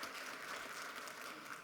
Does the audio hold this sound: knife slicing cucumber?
no